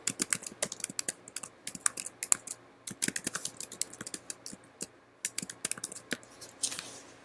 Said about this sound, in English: I'm going to type in my song title